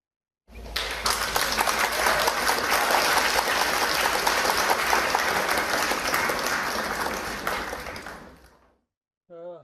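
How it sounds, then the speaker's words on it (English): A convocation audience gives a big round of applause for a financial-planning graduate, loud dense clapping that swells in and holds for several seconds before fading away, followed by a brief voice at the very end. "give a huge round of applause for him."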